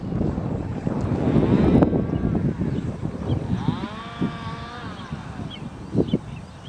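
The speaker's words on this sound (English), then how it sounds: "Getting a little windy up there." Wind gusts roar steadily during a drone flight, buffeting the microphone, with a faint whine from the drone's motors rising and falling underneath.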